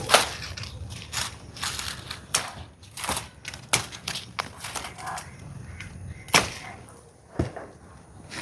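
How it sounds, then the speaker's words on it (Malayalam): Winged bean pods are snapped off the plants by hand at harvest, giving an irregular series of crisp, close snaps and cracks mixed with leafy rustling. "അപ്പം ഞാനിതൊക്കെ ഒന്ന് പൊട്ടിച്ചെടുക്കട്ടെ."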